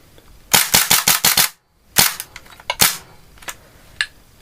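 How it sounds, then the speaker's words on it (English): A chrome Tokyo Marui Desert Eagle .50AE airsoft pistol is dry fired, giving a quick burst of about six sharp close clicks, a pause, then several more scattered cracks of varying loudness. "We'll do a bit of dry firing now."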